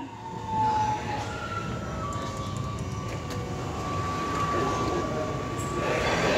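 A metro train rumbles steadily, with a faint high tone running through the continuous rolling noise and no clear talk.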